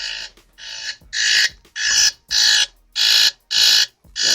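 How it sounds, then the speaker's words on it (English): An electronic alarm going off loud and close: a run of about eight regular beeps that get longer as they repeat, with no voices. "shout out to this alarm for working"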